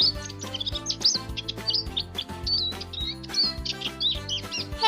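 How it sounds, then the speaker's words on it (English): Bird calls ring out repeatedly at a zoo, consistent with a parrot: bright, sharp chirps and squawks come in bursts over a steady background of crowd and ambient noise, fairly close and moderately loud. "Look at that parrot"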